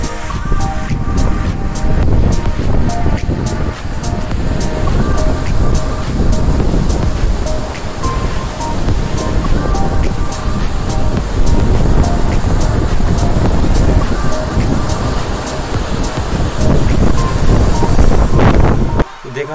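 Rough sea in the Bay of Biscay surges and crashes against a cruise ship, heard from the deck as a loud, continuous roar mixed with heavy wind buffeting the microphone, with a voice speaking over it.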